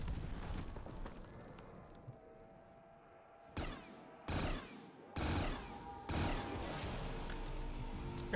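Rapid bursts of gunfire with real bullets in Black Ops 3 custom zombies: dense, loud volleys in several separate bursts with short gaps between, steady game background beneath.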